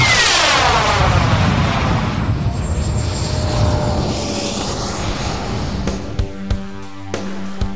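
A 1/7-scale F-86 Sabre model jet built from a BVM kit roars loudly down the runway with a continuous turbine whoosh that sweeps in pitch as it passes, then thins out into scattered background noise.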